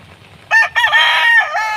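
A rooster crows loudly and close by, one drawn-out crow with a rising start and a falling tail.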